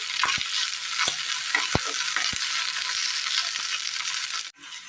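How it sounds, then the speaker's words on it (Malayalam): Okra sautéing in a pan gives a steady, close sizzle, broken by several sharp clicks of a spoon against the pan as it is stirred. "വെണ്ടയ്ക്ക് ഒന്ന് ചെറുതായി ഒന്ന് വഴന്ന് കിട്ടിയിട്ടുണ്ട്"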